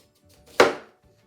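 A single close, crisp chop sounds as a knife cuts through zucchini on a board to slice thick steaks, a short thud that fades quickly in otherwise quiet surroundings.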